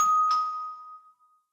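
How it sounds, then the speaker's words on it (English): A single bright electronic chime from the office doorbell in the video game Blue Archive rings once, clear and close, its tone lingering and fading away with no voices over it. "The bell to my office rang."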